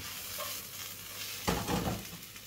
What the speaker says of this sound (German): Schön scharf anbraten.